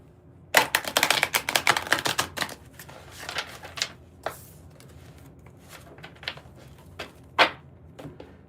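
Stiff new tarot deck being shuffled by hand, a burst of dense riffling clicks followed by sparser card taps and snaps, close and fairly quiet.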